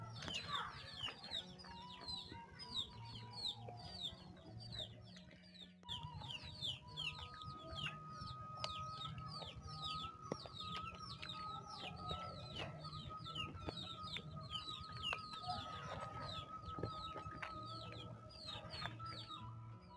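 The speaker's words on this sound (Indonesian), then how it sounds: "Ini tadi bawahnya ada ayam banyak lagi nungguin." A flock of chickens clucks and chatters outdoors, many overlapping calls going on continuously at moderate distance against quiet background noise.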